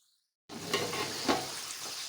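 Onions sizzle and fry steadily in a hot pan after a brief silence, with a few louder crackling bursts.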